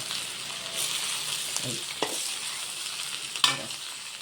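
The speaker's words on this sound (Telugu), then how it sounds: "ఇట్లా వేగిన తర్వాత ఇప్పుడు ఆలు వేసుకోవాలి." Potatoes fry in a pan with a steady sizzle, broken by a few scraping stirs up close and no talking.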